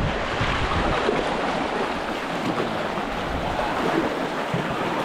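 Sea waves and strong wind out on open water where shell-baited fishing is under way, a continuous loud broadband roar of surf and gusting wind buffeting the microphone throughout, with no talk.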